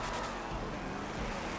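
Engine of a car in GTA V revving steadily under acceleration, a continuous low rumble with a broad hiss over it, fairly loud and alone throughout.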